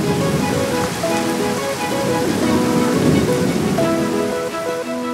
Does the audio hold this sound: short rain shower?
yes